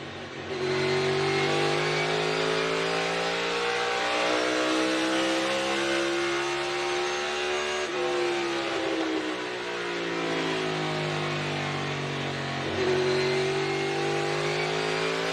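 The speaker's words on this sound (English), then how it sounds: "Let's do a little ride along with Kurt Busch" A NASCAR race car engine roars during an onboard ride-along lap at Toyota Owners 400 practice, a loud continuous drone whose pitch rises and falls as it accelerates, with no talking.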